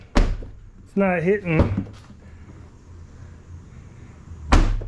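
A Ford Bronco's rear door, carrying a reinforced spare tire mount, opens and shuts with a solid thunk at the start and another at the end, and a person speaks briefly in between.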